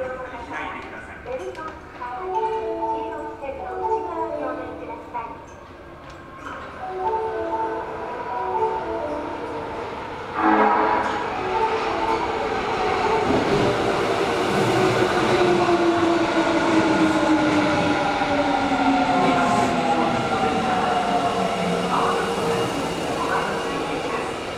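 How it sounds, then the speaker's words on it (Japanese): An Osaka Metro Sennichimae Line subway train pulls into Namba station bound for Nodahanshin, with rising wheel screech and rumble building to a steady roar, while a platform announcement plays over the start. "2番線に野田阪神行きが到着します。"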